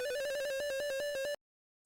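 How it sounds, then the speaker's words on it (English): Electronic phone ringing in the 1987 Sierra game Space Quest II, a rapid trilling beeped tone pulsing steadily for over a second before cutting off abruptly. "Is that like a phone ringing?"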